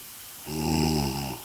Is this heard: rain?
no